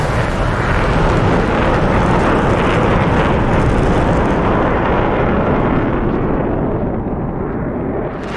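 Loud, continuous roar of a jet aircraft going supersonic over an airfield in a combat flight simulation game, a dense broadband rush holding steady throughout with no talk.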